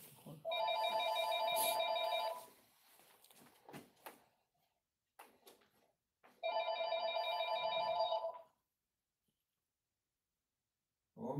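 A telephone rings in two long electronic trill bursts with a pause between them, loud and close, with faint movement and shuffling in the gaps.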